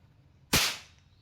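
A toy cap gun goes off once, a single sharp crack that fades quickly into a short ring, close and loud against an otherwise quiet background.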